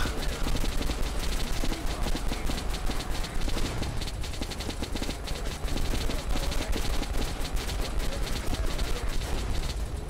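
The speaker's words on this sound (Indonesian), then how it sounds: "Untuk menghadapi truk ini, aku akan menembaki mereka menggunakan Gatling ini." A Gatling gun firing at trucks in the Metro Last Light video game, a relentless rapid-fire stream of shots that is loud and continuous throughout, with heavy rumbling underneath.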